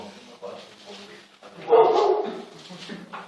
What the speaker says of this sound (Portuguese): Alguém sabe o que é esse cachorro lá?